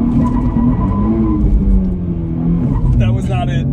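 A 2023 Nissan Z launches hard at a Las Vegas media event, its engine revving steadily with tires spinning. The engine drone is loud and continuous, with people talking over it.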